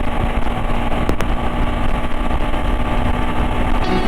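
A KTM Adventure 390 motorcycle runs hard at speed on the Kolkata–Delhi highway, its engine a loud, continuous drone with dense wind rush, holding steady throughout with no voices.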